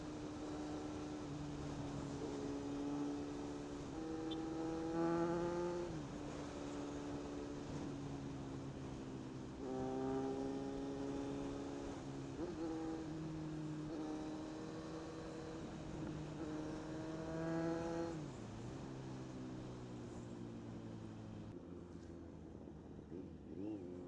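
A Kawasaki Z900 motorcycle with a 948cc engine revs through repeated rising and falling sweeps, each climb in pitch dropping back as it shifts, steady and moderately distant.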